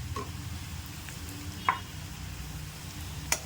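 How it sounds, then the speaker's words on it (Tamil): Onions sautéing with asafoetida in a pan for a raw banana dish, a steady soft sizzle with a couple of sharp clicks of a spoon against the pan. "வெங்காயம் போட்டு நல்லா வதக்கணும் அதுவும் கொஞ்சம் பெருங்காயம் போட்டுக்கணும்"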